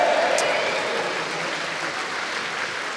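A large live crowd at a rugby show cheers and applauds as a dense, loud, steady wash of clapping. A voice briefly rises above it at the start.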